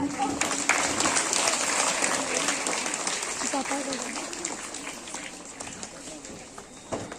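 A crowd applauds continuously for honoured teachers at an Independence Day school ceremony, the dense clapping steady throughout while a voice speaks over it.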